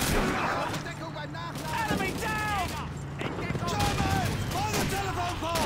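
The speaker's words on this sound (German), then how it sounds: "Oh, das war ein guter Schuss." Gunfire in the World War II shooter Call of Duty 2, scattered shots and bursts amid battle noise, with whistling tones and someone talking over the action.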